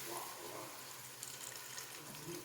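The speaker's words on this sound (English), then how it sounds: "We'll start off with some chicken broth." Chicken broth is poured into a gumbo pot, a faint, steady liquid splashing and trickling that runs continuously in the kitchen without any talk.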